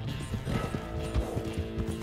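A horse in Red Dead Redemption 2 gallops with a rapid, rhythmic clip-clop of hooves, up close and fairly loud amid low game ambience.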